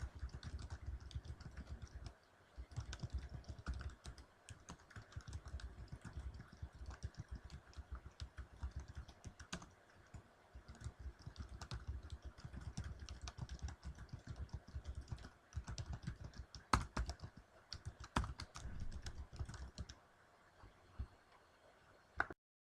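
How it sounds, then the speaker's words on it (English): Sentences typed quickly on a computer keyboard, a dense run of close key clicks with brief pauses, loud and continuous for about twenty seconds with no voices. "Watch as I type these few brief sentences to show an example of how quick typing is."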